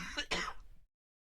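A single close throat clear with a short cough-like burst, under a second long, followed by silence.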